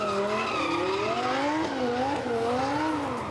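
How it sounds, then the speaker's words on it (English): Italian supercar thrashed in drifting on a hill course, its exhaust note rising and falling with wavering engine revs and tire squeal, loud and continuous throughout. "The sweet exhaust note of the Italian supercar being thrashed by Mad Mike Widette."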